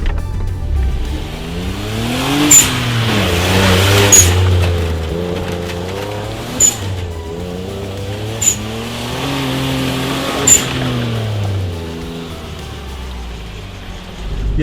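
A turbocharged Suzuki Jimny JB23 of about 900 kg and 64 hp revs and accelerates hard in repeated pulls. Rising engine tones are broken by sharp bursts between the pulls, and no one speaks.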